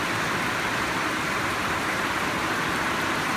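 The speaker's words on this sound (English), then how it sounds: "It's pretty much hailing outside." Hail hammering on a tin roof, a loud, dense, unbroken roar of impacts drumming steadily with no voices over it.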